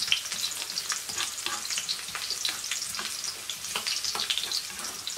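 Large-cut garlic fries in a pan with a busy, crackling sizzle of many quick pops that keeps going steadily at close range, with no one speaking.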